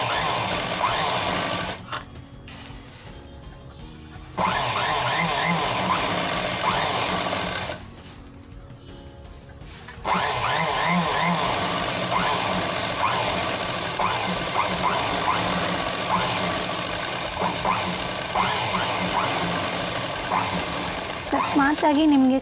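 A sewing machine runs close and loud, stitching the neck piping on a blouse in long continuous whirring bursts, briefly stopping twice before resuming.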